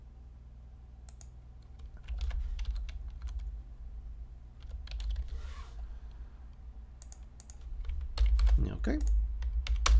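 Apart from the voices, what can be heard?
typing on computer keyboard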